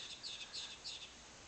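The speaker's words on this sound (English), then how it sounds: "I'm serenaded by birds, at least this time in the morning, almost every video I make." Morning birdsong comes in three or four short, bright chirping phrases in quick succession, fairly faint and somewhat distant over a quiet background.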